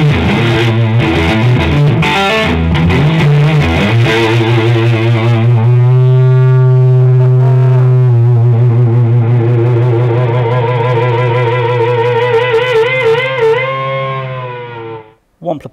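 An electric guitar played loud through an Electro-Harmonix Rip Speaker Fuzz pedal in a music store, a sustained, heavily distorted gritty chord ringing for several seconds after choppy opening strums, then cutting off abruptly.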